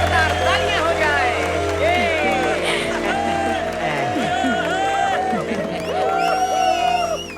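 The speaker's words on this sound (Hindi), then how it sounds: "जोरदार तालियां हो जाए।" Loud applause and cheering from a large crowd at a celebrity event, with whoops and shouts over a steady backdrop of clapping and continuous voices throughout.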